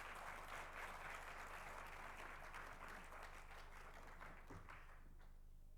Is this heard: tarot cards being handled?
no